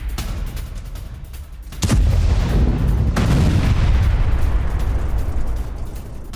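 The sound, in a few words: explosions at Russian weapons depot after MiG-29 attack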